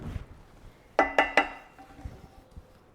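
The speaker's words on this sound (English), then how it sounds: "Then we're going to stir in our noodles" Metal utensil clinks three times against a pot while noodles are stirred into cheese sauce for Gouda and bacon mac and cheese, sharp close knocks in quick succession over quiet kitchen background.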